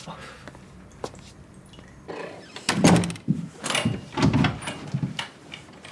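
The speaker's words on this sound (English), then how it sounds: "Locking the door." A bedroom door being locked in a house: quiet shuffling, then several solid thunks and rattles of the door and its lock, close by and fairly loud.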